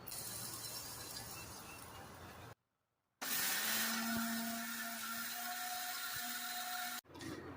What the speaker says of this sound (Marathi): ही आता आपण परत मिक्सरला छान फिरवून घ्यायची